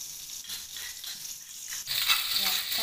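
Ground sambal being sautéed in a little oil, a soft hiss that swells into a brighter, louder sizzle partway through, with light stirring scrapes close by.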